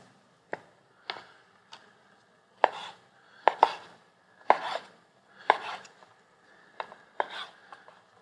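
Knife chopping seafood into inch-sized pieces for a French Riviera–style stew, about a dozen sharp board strikes in an uneven rhythm, close and fairly quiet, with no talking.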